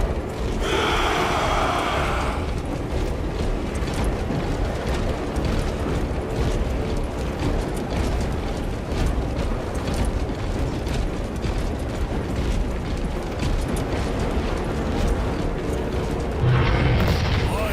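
Gunfire and explosions in Warhammer 40K Space Marine 2 roll on as a continuous battle din of booms, mechanical clatter and crackling blasts, with brighter bursts at the start and end and no talk.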